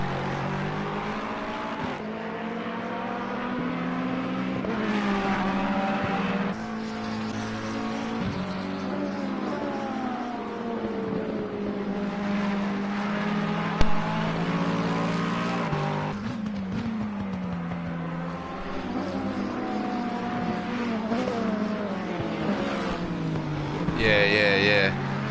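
Ferrari GT3 race cars lapping Imola in a wet race in a racing game, including a bright pink number 99 Ferrari. Engines drone steadily and shift pitch with occasional tire squeal, under continuous commentary talk.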